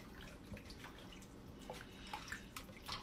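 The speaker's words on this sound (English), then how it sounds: "Then you wash your chicken" Raw chicken being washed with hot water, faint splashing and dribbling with scattered drips and small sloshes, quiet and close, without talk.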